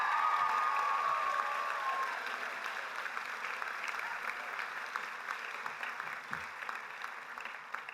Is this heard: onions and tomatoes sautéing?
no